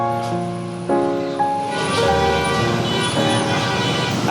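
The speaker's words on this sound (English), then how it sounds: "I think the honking will help." Car horns toot repeatedly in congested Bangkok street traffic, sustained loud honks overlapping and changing pitch over a rumble of engines and road noise.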